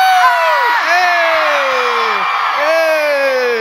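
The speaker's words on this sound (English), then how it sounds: "Hey, wait, guys, scream really loud right now." A convention audience at a Spider-Man: Homecoming panel screams loudly as a steady, dense crowd roar, with one close voice whooping in long falling yells on top.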